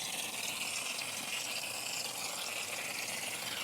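Water pours steadily over freshly transplanted plants in a garden bed, a continuous close gushing hiss with no pauses and no talk.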